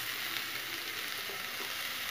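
Grated cabbage and carrot sauté in a pan for paniyaram batter, a soft, even sizzle holding steady and fairly faint for a couple of seconds with no voices.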